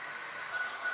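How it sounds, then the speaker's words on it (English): An HO scale model train runs along the track with a steady, close rolling hum and a faint high squeal, alone and brief. "business train came into Warm Springs"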